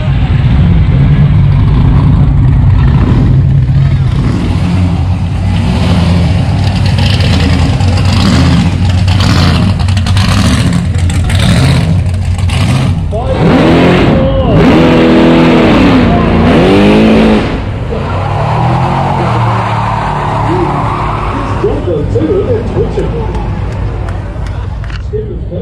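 At an American car show event, a loud race car engine roars and revs as it accelerates past close by, its pitch climbing and sweeping over sustained heavy engine noise, with crowd chatter and a speaking voice underneath.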